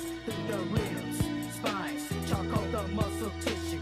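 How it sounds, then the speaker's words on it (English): A short horrorcore music excerpt plays on its own, with a bass line and rhythmic hits under a repeating tonal synth line, moderately loud throughout. "Horrorcore sounds like this."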